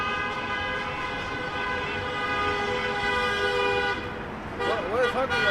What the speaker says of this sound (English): What is honking your horn doing?